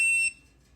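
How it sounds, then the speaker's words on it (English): A hidden camera detector beeps after sensing a recording camera: a single bright, high electronic tone that sounds briefly and cuts off, leaving a quiet hum. "Once it detects a camera that's recording or a tracking device, it will beep."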